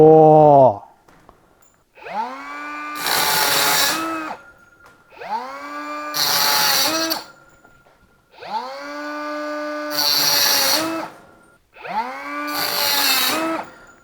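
A Makita 18V compact cutter running in bursts: four separate cuts, each a rising motor whine followed by a loud, harsh grinding cut of about a second, with pauses between them, close up and loud.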